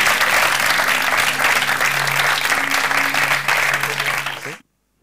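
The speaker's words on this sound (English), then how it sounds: "I would like that he receives an applause for the work and the inside work." Audience applause for an artist at a talk on quantum computers and 3D printing on wood: dense, loud clapping from a sizeable crowd holds steady for over four seconds, then cuts off abruptly into silence.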